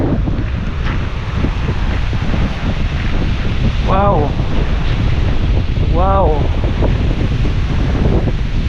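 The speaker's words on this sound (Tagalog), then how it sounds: "lakas ng hangin ah" Loud, steady wind buffets the microphone throughout, with a person briefly exclaiming twice in the middle.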